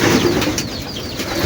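Racing pigeons being readied for a 400+ km derby give soft, close coos and a flutter of wings in one short burst, with no talk over them.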